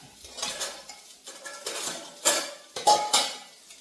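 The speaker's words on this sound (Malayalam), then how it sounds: "മീനുണ്ടായിരുന്നു അത് വറുക്കാനായിട്ട് ഇട്ടിട്ടുണ്ട് അതിനെ നമുക്ക് ഇനി ഒന്ന് തിരിച്ചിട്ട് കൊടുക്കാം" Metal spatula scrapes and clinks against a frying pan as pieces of frying fish are flipped over, a series of close, sharp scraping strokes in an irregular rhythm with no voices.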